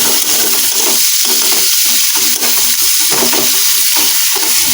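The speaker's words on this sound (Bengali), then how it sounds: "পেঁয়াজটা তেলেতে একটু ভেজে নেব।" Chopped onion sizzles steadily in hot oil in a pan, a loud continuous frying hiss with occasional stirring scrapes and no talking.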